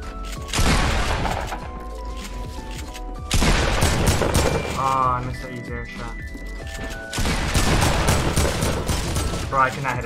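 Loud bursts of gunfire erupt in a fast-paced competitive shooter played with mouse-and-keyboard and controller, several heavy volleys repeating close up amid excited speech.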